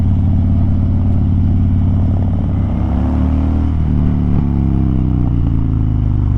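Motorcycle engine winding down as the rider decelerates on a winding inland road, a loud close throbbing exhaust note dropping in pitch over several seconds, with wind rush and no talk.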